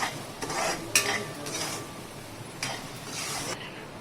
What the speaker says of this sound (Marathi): खोबरं लसूण आलं कांदा हे सगळं वाटण आहे हे मस्त मी आता परतून घेते आहे